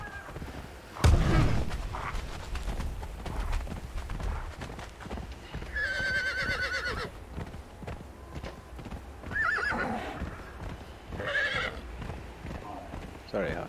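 A horse in the Conan Exiles video game neighs and whinnies in repeated loud bursts over steady clip-clopping hooves, with a sharp bang early on and a voice talking throughout.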